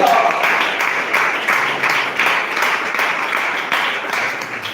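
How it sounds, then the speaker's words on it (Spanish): A church congregation gives loud, enthusiastic applause after a sermon, a dense, steady wash of clapping that carries on throughout at close range. "dale un fuerte aplauso"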